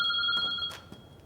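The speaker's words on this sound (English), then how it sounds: "the telephone suddenly rings." A telephone in a phone booth rings in short electronic bursts, two tones repeating, then cuts off into faint room noise.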